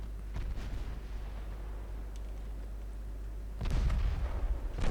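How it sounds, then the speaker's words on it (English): Heavy warship guns boom in an Ultimate Admiral Dreadnoughts naval battle, a low rumbling salvo over a constant droning background, with a louder blast near the end. "And Impetuoso is firing"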